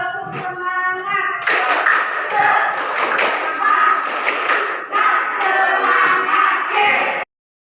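A classroom of students performs the rhythmic 'tepuk semangat' clapping chant together, a dense burst of claps and voices that begins after a short spoken lead-in and continues loudly for several seconds before stopping abruptly.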